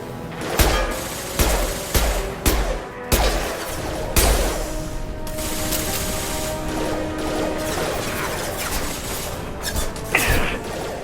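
Rapid bursts of gunfire in the Mass Effect 2 video game, sharp cracks and thuds in quick irregular clusters over a busy, mechanical combat din.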